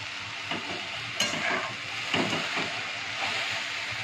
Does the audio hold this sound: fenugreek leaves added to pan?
yes